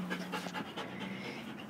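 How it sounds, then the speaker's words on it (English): A playful dog pants steadily and close by, with quick rhythmic breaths continuing throughout against a quiet indoor background. "He's the most playful dog ever."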